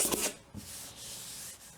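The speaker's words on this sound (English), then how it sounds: "Just take your hand and rub it over the area, smooth out any surfaces that you find" A hand rubbing over a wallpaper seam to smooth it: soft, close, papery swishing strokes, one short burst and then a quieter sustained rub.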